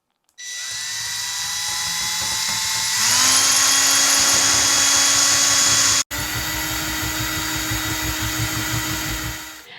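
A power drill with a bit enlarging a hole in a ceramic salt shaker, water on top; a steady close whine that rises in pitch as it speeds up, with a brief cut midway before grinding on.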